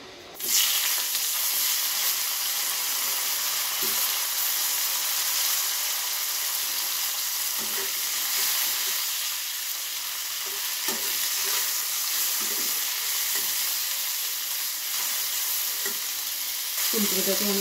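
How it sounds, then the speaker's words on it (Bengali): Cauliflower frying in hot oil in a pan, after potatoes were fried, makes a steady close sizzle throughout, broken by occasional soft knocks of stirring. "ওই তেলে আমি ফুলকপিটা ভেজে নেব।"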